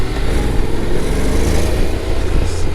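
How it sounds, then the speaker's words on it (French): A 2025 Honda Forza 750 scooter engine runs steadily for a few seconds with a dense, continuous low rumble and no talk. "le bruit il est différent évidemment que le T-Max, ça fait un petit peu plus moto"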